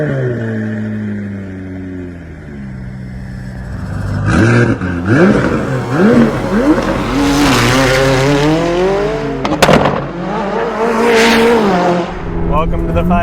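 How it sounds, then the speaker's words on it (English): McLaren 570 supercar driving off, its engine revving and rising in pitch through gears, loud and close inside the cabin, with people talking over it throughout. "you guys will be able to hear the car and, you know, how she rips"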